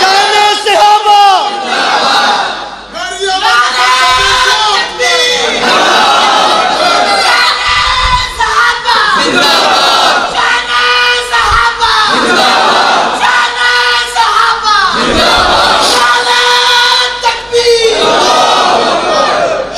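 A large religious gathering roars back in unison after a Nara-e-Takbeer call, loud massed shouts repeating in rhythmic bursts about every two to three seconds, close and dense, with a lead voice between the waves.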